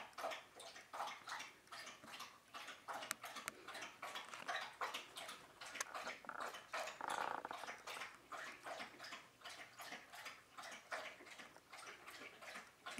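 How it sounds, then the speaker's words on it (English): A dog laps water loudly from a bowl indoors, a steady rapid run of wet splashy laps close to the microphone, continuing without pause and with no talking. "that's my dog drinking water very loud"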